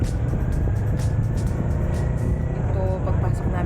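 Big bike motorcycle riding onto the Skyway expressway with a passenger aboard, steady engine and wind rumble filling the clip, with light traffic and a rain-threatening sky.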